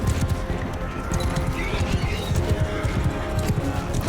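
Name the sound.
horses galloping, cavalry riding in, Mount & Blade II: Bannerlord video game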